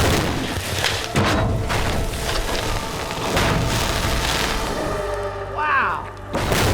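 A flattened car gas tank holding real gasoline bursts under a 3,000-pound dropped weight, giving a loud boom with a rushing roar. Voices are heard through the blast and its trailing rumble.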